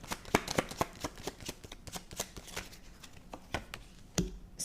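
Tarot cards being shuffled and drawn, a close rapid series of crisp riffling snaps and taps with a few louder card slaps, no voices.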